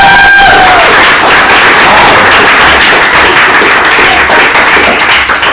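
A conference audience bursts into loud, dense applause for a presenter, a continuous wash of many hands clapping with faint cheering mixed in, filling the room for the whole stretch.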